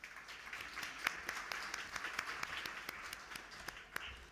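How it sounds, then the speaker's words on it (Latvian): Faint, sparse applause from a small audience at a housing panel discussion welcoming a panelist onto the stage, with individual claps audible against a quiet room. "Sagaidām aplausiem"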